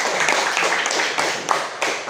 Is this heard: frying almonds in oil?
no